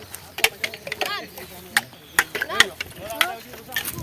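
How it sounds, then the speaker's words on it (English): A bull-driven sugarcane crusher turns in a village, giving off irregular wooden creaks, clunks and ratcheting knocks. Faint voices sound in the background. "once the bulls turn round the machine, the sugarcane is crushed"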